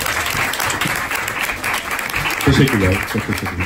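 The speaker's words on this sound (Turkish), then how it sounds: "Bir alkış alalım lütfen." Loud, dense audience clapping at a live music event fills the whole stretch while someone speaks briefly over it in Turkish near the end.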